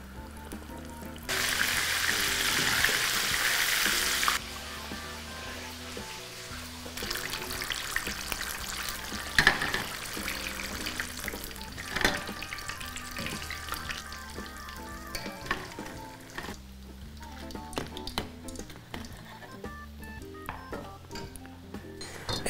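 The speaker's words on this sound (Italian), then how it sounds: "e comincio a friggere" Floured spiced chicken pieces deep-fry in hot oil, opening with a loud, dense sizzle that settles into a steady bubbling crackle, close by, with no talking.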